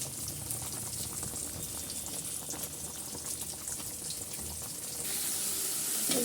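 Magur catfish sautés under a lid in a pan, making a continuous dense sizzle and bubbling hiss that swells a little louder toward the end, close up and without speech.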